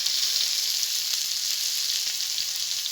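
Cut potatoes frying in oil reused from frying fish, a close, continuous sizzle with fine crackling pops and a few faint stirring knocks, steady and unaccompanied by talk.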